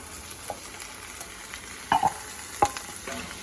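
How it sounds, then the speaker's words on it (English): Okra frying with slightly caramelized onions in a pan, a soft low sizzle carrying a few sharp spatula scrapes and taps near the middle, quiet and close with no talking. "once the onions are slightly caramelized like this, you can go ahead and add your okra"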